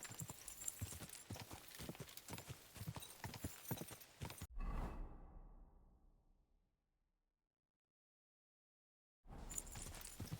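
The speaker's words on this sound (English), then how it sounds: "Easy, good horse." Horse hooves clip-clop in a quick, steady rhythm in Kingdom Come Deliverance 2, then a heavier thud fades into silence before the hoofbeats resume at the end.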